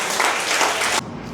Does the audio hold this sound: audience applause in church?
yes